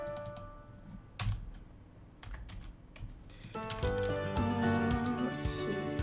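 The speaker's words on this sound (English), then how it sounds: "we have to click any key to continue" A few sharp clicks of keys pressed on a computer keyboard while booting Windows 11 in Hyper-V, close and distinct over a low background hum that rises into a steadier tonal drone.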